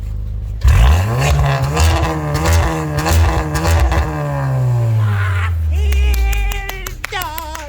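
A Skoda Superb engine revs hard and climbs in pitch at full throttle, loud and close, then winds down through gear changes with brief shifts near the end.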